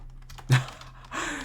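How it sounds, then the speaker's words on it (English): A cat pads across a computer keyboard in an FMV horror video game, giving one sharp key-clatter burst and then a faint, softer shuffle of keys in a quiet room. "Yeah, that's an interesting, elegant keyboard cat."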